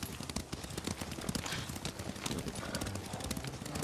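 Horse hooves clip-clop in a rapid, steady gallop while riding in the Ghost of Tsushima video game, dense and continuous under a busy background wash.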